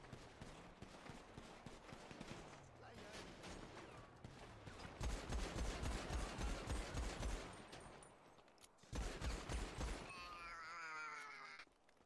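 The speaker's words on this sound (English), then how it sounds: "Ash is shooting them or no?" Rapid bursts of automatic gunfire in GTA RP on the NoPixel server, loud and dense with crackling shots and a short break before another sustained volley, groans and pained voices mixed in.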